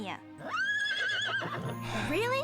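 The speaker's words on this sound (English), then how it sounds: "I'm wondering if the horse will get a voice at some point or if it's just gonna keep neighing." A cartoon horse gives a loud, drawn-out whinny with a wavering pitch, followed by a second rising neigh. It sounds close and sits over a soundtrack with some background speech.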